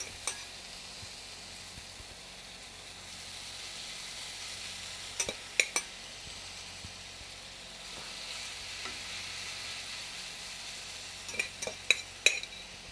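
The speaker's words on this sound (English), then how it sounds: "Hear that sizzle." A soft, steady sizzle of sweet potato hash frying in a hot pan, broken by a few light clinks of a utensil stirring.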